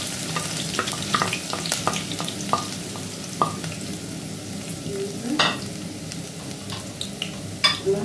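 Onion and green pepper frying in a pan for a minji and meat stew, a continuous close sizzle with scattered crackles and occasional clinks of stirring utensils against the pan.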